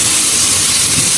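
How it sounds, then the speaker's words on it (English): Garlic cloves going into a hot pan with already-cooking onions while preparing stuffed mushrooms, giving off a steady, loud hiss of sizzling with no break and no voices. "Now we're going to add in the garlic, the 2 cloves."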